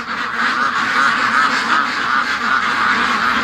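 Free range ducks kept locked in their pen fill the air with a dense, continuous chorus of nearby quacking and honking, with no talking.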